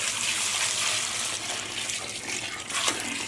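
Water poured over broken-up clay in a container, a steady splashing, trickling flow heard close up with no talking.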